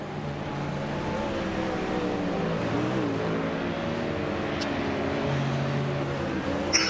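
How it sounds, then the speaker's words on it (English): Several ERT racing cars pull out of pit lane at night during qualifying for the Bathurst 12 Hour in iRacing, a steady engine drone with a faint rise in pitch, with no voices. "Trio of ERT cars leaving right now."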